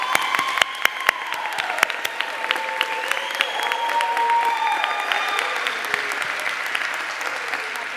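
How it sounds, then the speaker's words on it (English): Steady applause fills a dental hygiene pinning ceremony as the audience cheers the graduating class, a dense, even wash of clapping with faint voices and brief tonal sounds drifting over it throughout. "Okay, one more time with a round of applause for everybody."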